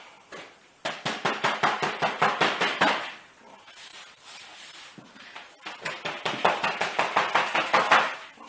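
A pounced paper pattern for hot rod flames is tapped onto a wooden board with a chalk pouch, giving two runs of rapid, even, close taps separated by a brief softer pause.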